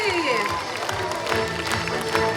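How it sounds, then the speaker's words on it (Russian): A theatre festival closing ceremony audience in Cheboksary applauds and cheers for a best acting ensemble award, loud, continuous clapping mixed with crowd voices and tonal sounds. "Аплодисменты!"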